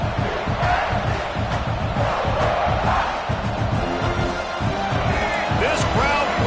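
A roaring football stadium crowd at a South Carolina vs Clemson game, a continuous loud wash of noise and shouting with a few whistles, and a commentator's voice running over it.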